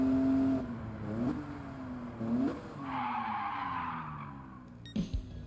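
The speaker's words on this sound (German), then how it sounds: "dann blockieren die Reifen einfach nur und wir schlittern einfach ins Jenseits durch" A car in Gran Turismo 7 revs through rising engine pitches, then its tires lock under the handbrake and skid with a long, hissing screech before the engine picks up again.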